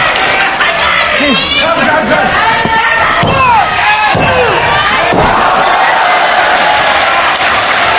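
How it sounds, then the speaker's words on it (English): A wrestling crowd at a live pro wrestling show in Tokyo roars in support of Nigel McGuinness, a dense, loud wall of cheering and chatter with shouts rising above it and a few thuds from the ring. "listen to the crowd showing their support for McGuinness as he continues to fight back"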